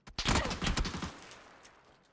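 A rapid burst of gunfire in the video game PUBG rattles off for about a second, then fades into a decaying echo.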